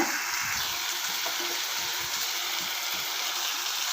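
Ingredients for a peanut and broad bean (avarai) kuzhambu frying in a pan, giving a steady, close sizzle with soft stirring scrapes throughout, no voices.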